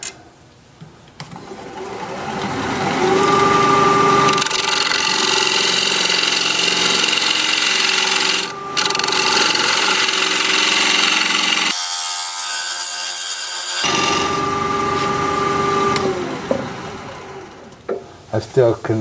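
A wood lathe spins a bowl while a tool makes a thinning pass on its walls, a steady loud whirring with scraping texture that runs nearly the whole time, briefly cutting out near the middle before resuming.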